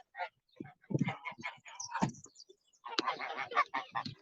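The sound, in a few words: geese on a farm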